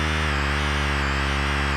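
An Ensoniq ESQ1 synthesizer plays its chainsaw patch, a loud, sustained buzzing drone with a dense stack of harmonics that holds steady with no pauses and no talking.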